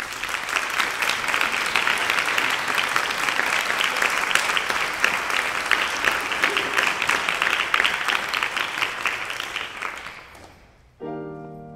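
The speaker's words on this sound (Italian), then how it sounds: "vi invito a farle un caloroso applauso" Concert audience applauds warmly for a choir member's solo debut at a gala concert of finalists from an international opera singing competition, a steady dense clapping that holds for about ten seconds before fading, then a brief tonal sound at the end.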